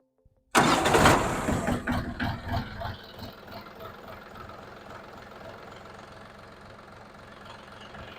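A DTZ 5354 tractor diesel engine cranks and catches abruptly, roaring up loudly at first before settling into a steady, knocking idle close by.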